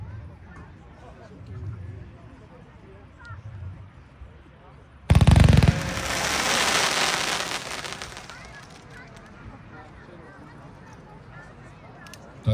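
PGE Green Strobe Glitter Pink single-row firework cake, fired at a product test, bursts in a sudden loud crackling volley that fades into a hissing, sizzling tail, with faint background noise before and after.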